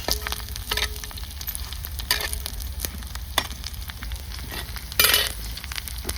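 Bombay duck (bombil) fish fry in a pan with a constant close sizzle and crackle, broken by a few louder spits and bursts, no voices.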